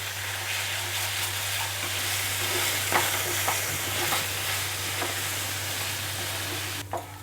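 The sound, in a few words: sautéing melon seed and poppy seed paste in pan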